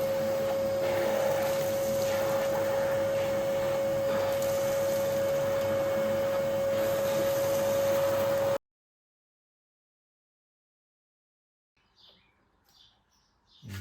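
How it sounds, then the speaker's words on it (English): A vacuum cleaner runs steadily with a high whine over a broad rushing hiss while cleaning engine parts during a Citroën XM engine replacement, then cuts off into near silence with a few faint clicks. "First, I might actually vacuum this."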